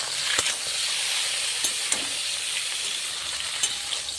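Pointed gourd, raw banana and eggplant frying in hot oil, a steady close sizzle and hiss with occasional crackles and stirring clinks, no voices.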